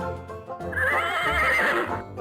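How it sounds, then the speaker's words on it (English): A horse on a farm lets out one loud, close whinny that rises and wavers for about a second, with a short snort before it. "Horses help with tasks around the farm, carry people, and even pull carts."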